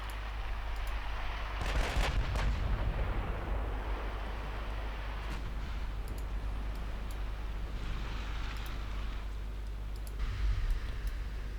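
Heavy 17-inch naval guns fire in a naval warfare video game, giving a few deep booming blasts over a constant low rumble of wind and sea.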